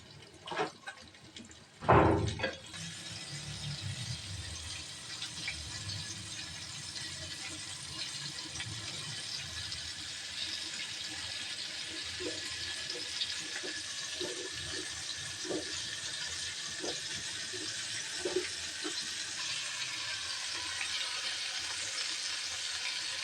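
Battered chicken pieces deep-frying in hot oil, a steady bubbling sizzle that starts with a sharp splash and crackle and then continues evenly and close, with no talking.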